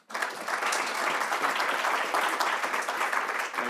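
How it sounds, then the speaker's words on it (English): Room audience at a policy forum applauds to welcome Representative Joaquin Castro, a dense, even burst of many hands clapping that starts abruptly and holds steady throughout. "So please receive him with a round of applause."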